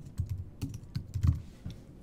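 A computer keyboard clatters as an email address is typed, a quick uneven run of close, soft key clicks with no talking.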